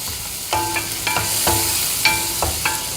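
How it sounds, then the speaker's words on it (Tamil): Onion and garlic sauté in butter, the sizzle broken by regular scraping strokes of a spoon or spatula about twice a second, close and clear with no talking. "இதை நல்லா வதக்கணும், பச்சை வாசனை போகிற வரைக்கும்"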